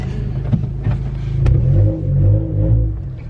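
A 2018 tenth-generation Honda Accord fitted with a custom cold air intake revs up close, its engine rising and falling in loud rumbling swells with a deep intake growl.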